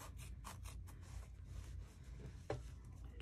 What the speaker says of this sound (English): I wanna get this vinyl trimmed down to about 1/8 of an inch because it's so thick